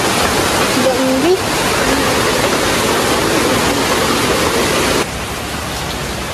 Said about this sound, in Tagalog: Magpas ang ulan guys.